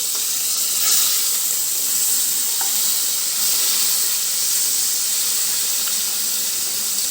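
Steady hissing sizzle of onions frying in hot oil, continuous and close, with a couple of faint clinks.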